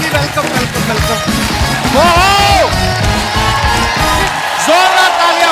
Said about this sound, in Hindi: जोरदार तालियां हो रहे हैं